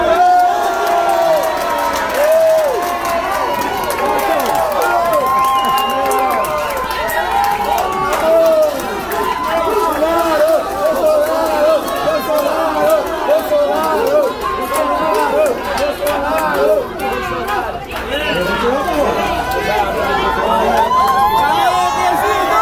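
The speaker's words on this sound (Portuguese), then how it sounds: "o presidente foi ovacionado, aplaudido e recebeu muito carinho dos populares" A crowd at a pizzeria in Guarujá cheers and shouts for the president, dense overlapping voices and whoops holding at a loud, close level throughout.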